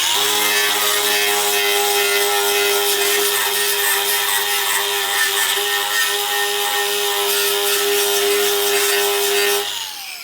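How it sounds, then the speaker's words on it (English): A knotted wire cup wheel on a power tool strips seam sealer off a car body panel, giving a steady, loud grinding whine with a stable pitch and constant level for about nine seconds before stopping abruptly. "This is what you can expect if you use the knotted cup wheel."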